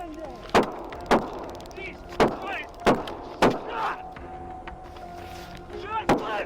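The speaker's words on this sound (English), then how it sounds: "Shots fired!" Six sharp gunshots crack out at irregular intervals, loud and close, with faint voices and background noise between them.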